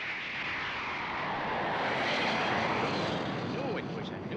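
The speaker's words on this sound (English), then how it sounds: "What a plane." A new-design airplane roars overhead above a quiet desert, a broad steady engine drone that builds and stays loud and close for several seconds, with voices speaking underneath.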